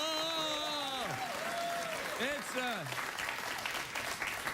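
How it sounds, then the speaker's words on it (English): A late-night television studio audience applauds with a broad, sustained roar of clapping and some cheering, while a voice speaks and exclaims over it with rising and falling vocal inflections. "Don't applaud Friday the 13th"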